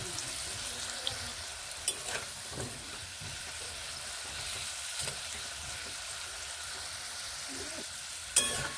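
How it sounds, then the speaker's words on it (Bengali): Potatoes fry in oil in a pan, a soft, steady sizzle close by with a few sharp utensil clinks. "আলুগুলোকে বেশ এইভাবে লাল করে আমি ভেজে নিচ্ছি।"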